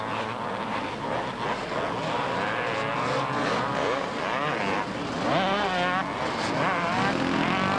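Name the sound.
four-stroke 500 Husqvarna motorcycle racing on beach course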